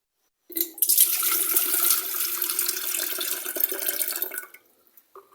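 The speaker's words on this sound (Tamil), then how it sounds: "இப்போ வந்து நாம தண்ணியை விட்டு கொள்ளலாம்" Water pours into an electric kettle that is being repaired, a continuous splashing gush that starts abruptly, runs for about four seconds and then stops.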